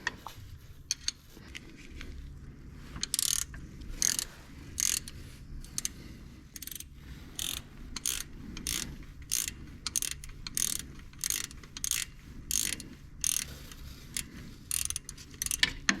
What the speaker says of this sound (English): And this wrench here is a lifesaver. I'm just going to keep turning it until I back that bolt out.